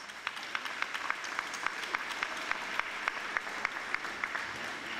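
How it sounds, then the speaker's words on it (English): An audience at a health-equity community presentation gives itself a round of applause. Steady crowd clapping fills the room, with a few louder, regular claps standing out close by over the even wash. "I want you to give yourself a big round of applause."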